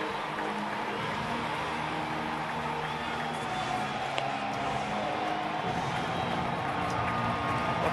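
Crowd at Yankee Stadium during a 2012 ALDS Game 4 playoff against the Baltimore Orioles, a steady broad roar of a large baseball audience throughout, with a faint announcer-like voice mixed in.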